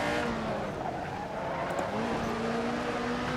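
In a VR racing game, a Brabham BT24 F1 car races at Monaco in 1967, with engines droning and whining continuously near and far and rising and falling in pitch as other cars run nearby.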